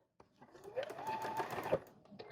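A home sewing machine stitches along the edge of a cloth napkin, a brief close whirring run that starts, hums steadily and then stops.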